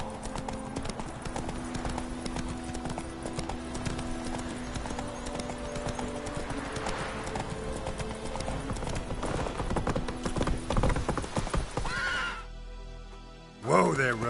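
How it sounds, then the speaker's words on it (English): Horse hooves clip-clop steadily at a walk in The Witcher 3, a horse whinnying among them, under continuous game ambience and some talk, before the sound cuts off near the end. "Whoa there, Roach"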